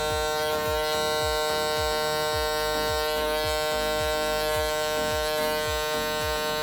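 Electric hair clippers buzz steadily during a skin taper haircut, a close, constant electric hum with faint rhythmic pulses as the blade moves, no talking.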